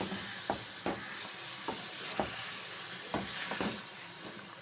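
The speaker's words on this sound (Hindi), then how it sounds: "नमक के तेल में ही इसको फ्राई करें खूब अच्छे से" Mutton for Peshawari karahi fries in oil in a kadai with a close, steady sizzle, broken by regular scraping knocks from stirring every half second or so.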